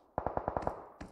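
Gunfire in the mobile battle royale game BGMI: a quick burst of six evenly spaced shots, then a short pause and one more shot, moderately loud with no talking.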